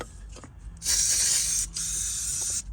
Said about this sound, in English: Now I'm going to spray some rubber safe lubrication on this